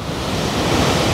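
Water rushes over Huka Falls near Taupo in a continuous, loud, broadband roar, dense and unchanging like heavy surf, with no speech.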